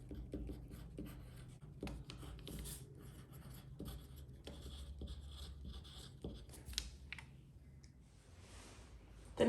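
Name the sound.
writing on paper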